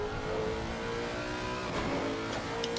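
A Lexus race car engine drones steadily at high revs during an endurance race at the Nurburgring, a continuous harsh mechanical roar with slight pitch shifts.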